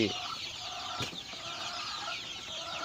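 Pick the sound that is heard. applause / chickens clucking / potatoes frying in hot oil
chickens clucking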